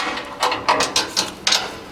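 A nut is spun onto a bolt holding a rear bumper bracket on a 1973-87 truck, giving a close series of five short metallic ratcheting clicks at an uneven pace.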